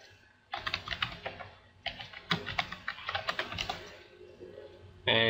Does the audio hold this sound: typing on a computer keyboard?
yes